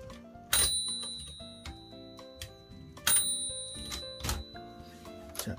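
A Marathon 910TR manual typewriter bell rings clearly twice with bright, sustained tones over mechanical clicks and clacks of the carriage and keys, recorded close on a phone with no talk.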